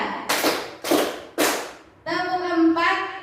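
A group of people clap hands together three times in rhythm, three sharp bursts spaced about half a second apart, followed by a voice speaking.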